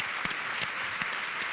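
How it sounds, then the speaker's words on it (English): A seated audience at a talk event gives sustained applause, a dense even wash of many hands clapping close by. A few louder individual claps stand out from it, with no voices. "Give a warm round of applause and gratitude to Richard Fidler, Matt Moran, and particularly Simon Tedeschi."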